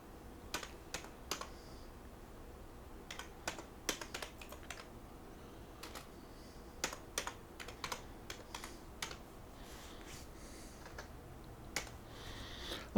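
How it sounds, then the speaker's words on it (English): Keystrokes on a computer keyboard, a sparse, irregular run of crisp clicks with short bursts and pauses, close and fairly quiet against a faint room hum. "I'm going to click in there and begin typing."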